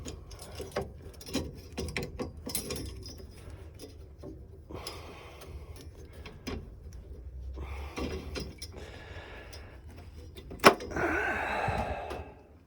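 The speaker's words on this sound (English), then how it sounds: "I'm just stripping this heat exchanger out now" Tools clink and scrape while a heat exchanger is stripped out of a Glowworm Energy boiler with an F83 fault: scattered metallic clicks, ratcheting and knocks, with one sharp bang near the end and some rustling handling.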